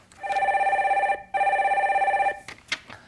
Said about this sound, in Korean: 다음 전화 받아보겠습니다.